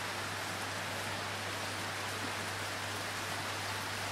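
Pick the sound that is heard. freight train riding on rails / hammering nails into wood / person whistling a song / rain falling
rain falling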